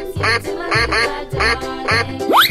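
A cartoon duck in an animal basketball video game quacks four times in a steady rhythm, loud and close, followed by a rising whistle-like sound at the end.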